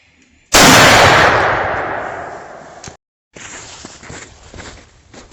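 A single loud, close rifle shot from an M44 Mosin Nagant fitted with a Tasco scope, its blast decaying over a couple of seconds, followed by a brief gap and then faint outdoor handling noise.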